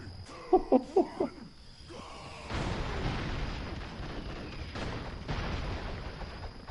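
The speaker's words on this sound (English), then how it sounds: "I can't keep track of all these explosions" Gunfire and explosions from a PS4 video game: a quick run of four sharp shots early, then a sustained rumbling blast that trails off under continuing game noise.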